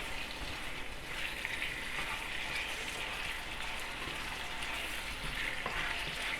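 Steak cooking in a pan with bell peppers and onions, a steady close sizzle and crackle of frying that runs unbroken throughout, with no voices.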